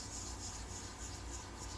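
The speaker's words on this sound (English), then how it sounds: "I'm dry sanding this at 800." Soft, steady rubbing hiss of 800-grit sandpaper dry sanding a bass guitar by hand, continuous and close, with no talking.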